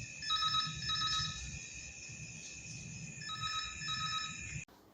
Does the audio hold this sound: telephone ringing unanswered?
yes